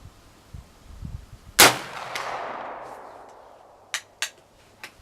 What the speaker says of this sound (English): I'm going to throw a couple at the steel plate that they got down there.